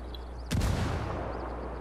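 A frag grenade going off in the tactical shooter Ghost Recon Wildlands: after a quiet lead-in, a single sharp, loud blast hits, then trails into a low rumbling decay over the next second.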